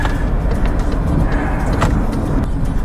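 A Maxus D60 Elite driving, a steady low rumble of engine and road noise that is loud and constant throughout, with no talking.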